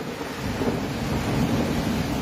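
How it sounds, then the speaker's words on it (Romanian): Torrential rain with hail during a thunderstorm in Arad, heard as a dense, continuous roar of pouring water and rumbling without letup, loud and steady throughout. "La Arad a plouat torențial, iar bucăți mari de gheață au acoperit străzile."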